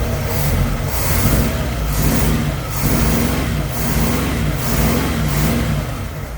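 A throaty 1961 Cadillac De Ville 390 V8 engine idles loudly up close, running a bit rich, its rumble swelling and easing in a slow, regular pulse.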